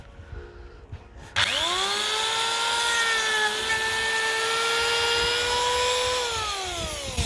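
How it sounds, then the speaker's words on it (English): A spinning-blade power trimmer used on a DIY koi pond build whines up sharply after a quiet start and holds a loud, steady high-pitched tone, pitch dipping slightly as it bites into the piece, with no talking. "that blade comes around, cuts like a tiny bit off, like a millimeter. So that spins."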